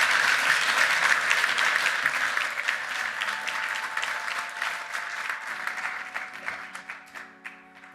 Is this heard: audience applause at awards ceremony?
yes